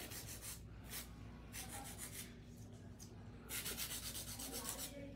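An acrylic nail is filed into a sharp stiletto shape, giving quiet, raspy rubbing strokes in short bursts with pauses between them.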